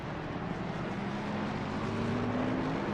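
Front-engine, rear-wheel-drive V8 GT race cars in a racing simulator, heard as a steady, dense engine roar that holds at a constant loud level, with a faint rising tone toward the end.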